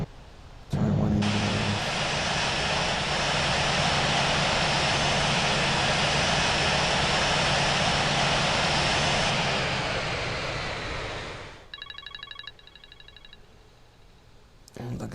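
A powerful aircraft engine from the Infinite Flight flight simulator game roars loud and steady for about ten seconds, then winds down and fades. A short series of electronic beeps follows.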